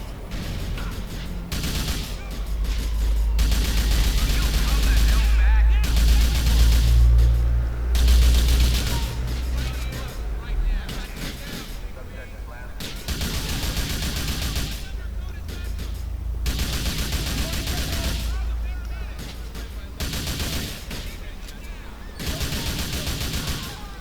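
Gunfire rings out in GTA Vice City gameplay, with repeated bursts of shots and loud booming impacts over a heavy low rumble, interrupted by brief quieter gaps.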